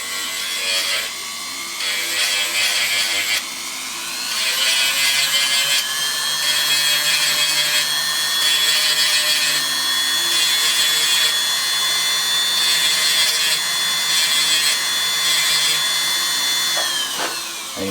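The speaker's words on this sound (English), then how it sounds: "I have a Fordham tool, which is just kind of a glorified Dremel, but it does do a really good job of chamfering these edges in here" A Foredom rotary tool chamfers the edges of knife scales with a high, sustained whine. It grinds in long passes broken by brief pauses, close and loud, with no talking.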